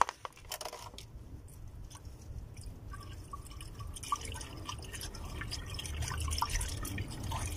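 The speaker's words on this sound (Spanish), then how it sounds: "Vean, ahí sigue saliendo ahorita agua todavía, o anticongelante, se puede decir, del verde." Green antifreeze coolant draining from a car radiator, a faint steady trickle and drip of liquid with light clicks, heard close in a quiet garage setting.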